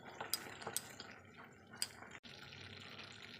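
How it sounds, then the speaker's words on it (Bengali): Spices being fried with onion paste in a pot for a prawn dish, heard as faint metal clinks and scrapes of a spoon stirring over a low, quiet background. "এবার ভালো করে পেঁয়াজের সঙ্গে মানে পেঁয়াজের পেস্টের সঙ্গে ভালো করে মশলাগুলোকে কষিয়ে নেব"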